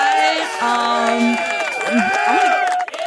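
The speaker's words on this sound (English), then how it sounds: "you can stop the clapping" Studio audience clapping and cheering for a podcast host, loud dense crowd noise with whoops, and a voice talking over it throughout.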